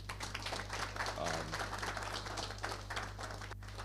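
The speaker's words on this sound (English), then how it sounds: "let's give a round of applause" Audience applause fills a hall at a Caribbean water operators conference, a steady wash of clapping at moderate level with a low hum underneath and some voices mixed in.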